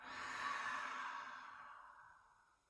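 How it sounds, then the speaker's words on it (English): A single long audible exhale after a deep breath, a soft close breathy sigh that swells then fades out over about two seconds, quiet and alone. "Deep breath in. Audible exhale out."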